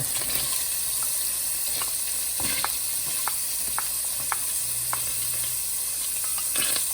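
Celery, onion and minced seeded jalapeno sizzle steadily in a pan with a bright, even hiss, broken by a few sharp crackles and light scraping taps of stirring.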